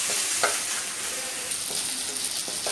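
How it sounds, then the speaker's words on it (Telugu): Brinjal pieces and green chillies fry in oil, a continuous close sizzle with occasional scraping knocks of a spoon stirring them, with nobody speaking. "పచ్చిమిర్చి కూడా వేయించుకుందాం ఇవి బాగా వేయించుకుందాం"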